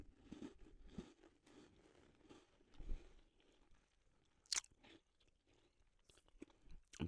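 Close, quiet crunching and chewing of a crunchy sugar-topped biscuit with a jam centre, irregular bites and mastication with a few sharp crisp snaps, no talking.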